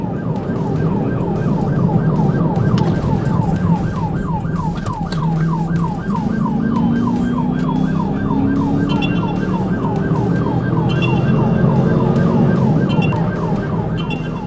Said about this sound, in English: deputies initiated a traffic stop with lights and sirens